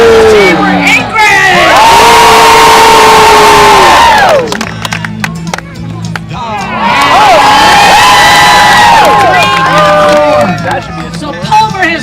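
A fairground crowd at the Alaska State Fair roars for the Anchorage side in two loud, sustained bursts of shouting and whooping separated by a brief lull, with a host talking between them.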